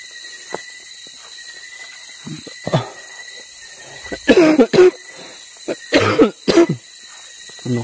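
Harsh, close coughing that comes in several loud bursts and clusters, with throat clearing between them against a quiet background hum.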